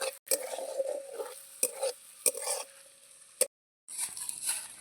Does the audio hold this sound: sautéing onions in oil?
yes